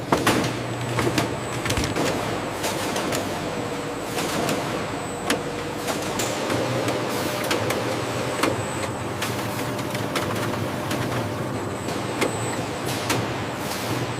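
Clattering factory machinery on a watermelon pulp dicing line, with repeated sharp mechanical clanks and knocks over a steady industrial hum, fairly loud and close.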